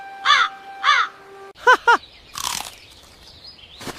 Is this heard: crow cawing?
yes